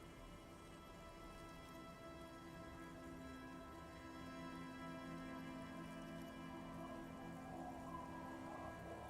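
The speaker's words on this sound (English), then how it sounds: "The women are caught in the downpour." Steady rain downpour in the video game Disco Elysium, a dense continuous patter of drops on surfaces with a low droning bed beneath, even and unbroken throughout with no voices.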